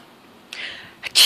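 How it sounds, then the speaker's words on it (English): A puppy gives a quick, sharp sneeze on command, a single close burst near the end after a soft breathy hiss, with no one talking over it. "Sneeze. Sneeze."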